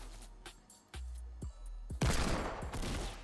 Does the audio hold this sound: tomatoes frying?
no